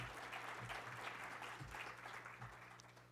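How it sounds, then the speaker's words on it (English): Faint, steady audience applause at an evening contemporary art lecture, sustained clapping from a seated crowd heard at a distance. "You can applaud them."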